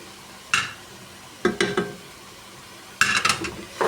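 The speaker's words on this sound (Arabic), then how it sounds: "وهاخدها تقليبه كده مع البصله كده" Onion, garlic and chicken pieces stirred in a pot, with a few separate bursts of utensil scraping and clattering against the metal and a faint sizzle between them.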